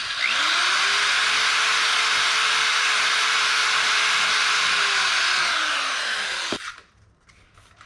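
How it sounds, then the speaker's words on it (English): A power drill whirs steadily at high speed for several seconds while drilling a hole in a Mustang part, its pitch holding even, then winds down and cuts off abruptly near the end. "I need to drill this one out just a hair to the left"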